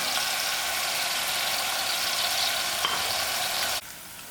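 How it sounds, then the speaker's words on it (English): Onions brown in a frying pan with a continuous bright sizzle, steady and close, that cuts off abruptly near the end, leaving a quieter hiss. "allow these onions to brown out"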